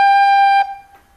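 A recorder sounds a single sustained G, a loud pure steady tone held for about half a second before cutting off, followed by a faint short trailing sound.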